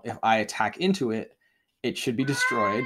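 A cat meows once between stretches of someone talking, the cry breaking in over his voice near the end.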